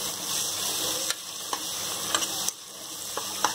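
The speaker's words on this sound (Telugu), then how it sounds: "ఇప్పుడంతా కలుద్దాం" Bisi bele bath ingredients, including mango pulp and turmeric, are stirred together in a pan, giving a steady sizzle with soft scraping strokes at irregular intervals.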